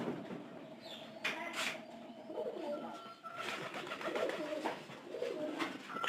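Domestic pigeons settling in to nest coo softly and repeatedly at close range, the low throaty calls overlapping in a steady rhythm against a quiet background.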